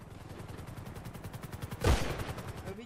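Gunfire during a video game roleplay sounds as a steady stream of rapid, evenly spaced automatic shots, with one heavier burst rising near the middle before the fire continues.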